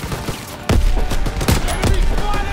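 Gunfire in Call of Duty: WWII, with close, loud rapid shots in a dense volley, repeated sharp cracks over a rumbling battle bed and faint shouting voices.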